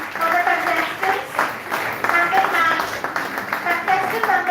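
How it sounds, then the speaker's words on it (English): An audience applauds the contestants at a college event, a moderate patter of clapping lasting a few seconds with voices mixed in. "I request for a huge round of applause for the contestants."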